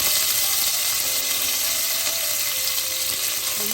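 Garlic and curry leaves sizzling in hot oil for a potato curry, a loud, close, steady hiss of frying that stays even throughout without any voices.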